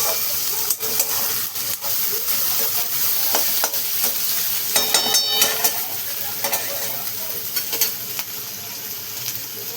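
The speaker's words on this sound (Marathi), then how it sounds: "आणि बघा कांदा असा मस्त आपण परतून घेतलेला आहे बघा." Chopped onion sizzling and hissing in a hot pan while a spoon stirs it, with scraping clicks over a continuous, fairly close frying crackle throughout.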